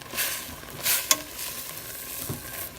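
Shredded cabbage and onion paste sizzle in a pan, with a gentle steady fry broken by a few short stirring scrapes and a sharp clack, up close with no speech.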